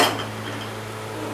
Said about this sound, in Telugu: కడాయి పెడుతున్నాను.